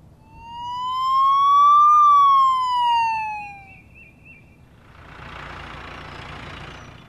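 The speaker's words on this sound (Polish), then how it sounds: "To jest straż pożarna." A fire engine siren wails, rising and falling once, loud and close, followed by a rough rumbling engine noise.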